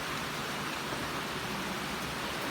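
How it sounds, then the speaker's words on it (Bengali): Steady heavy rain during a prolonged downpour over Chittagong, a dense, even hiss with no breaks or voices. "হচ্ছে তো হচ্ছে বৃষ্টি, কখন থামবে তার কোনো লক্ষণ নেই"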